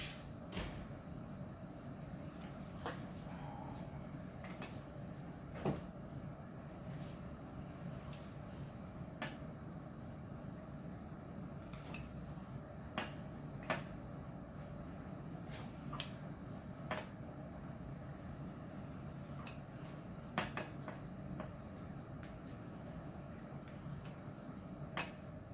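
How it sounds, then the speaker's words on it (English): A knife cutting rolled homemade pasta dough into noodles on a board gives sparse, crisp taps at irregular intervals, some louder than others, over a steady low room hum with no talk. "Now I'm going to just go ahead and cut it into the noodles now."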